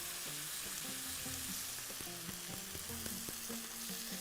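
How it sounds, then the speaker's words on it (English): Chicken stew frying in a pan over medium heat as spices go in, a steady broadband sizzle running throughout with soft stirring and scraping taps scattered across it, close and fairly quiet, no voices. "now I'm going to add the spices that we need"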